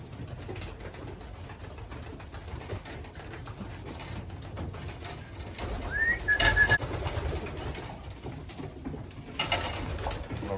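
Pigeons land back at their loft, with a soft coo and some rustling and fluttering against a steady outdoor background, fairly faint and at middle distance.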